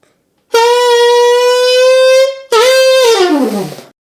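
A saxophone plays a riff: one long sustained note, then a second note that falls off in a downward glissando, loud and close with no talk.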